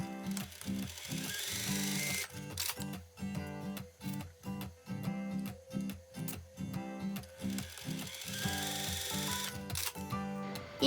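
A sewing machine stitches the side seams of a garment cuff up to the slit mark, with backstitching, running in bursts of rapid mechanical clatter separated by short pauses, close and fairly loud with no talking.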